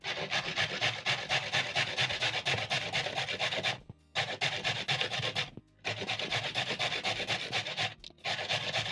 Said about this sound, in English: When grating your carrots using your box grater, be very careful when shredding the carrots because the edges are very sharp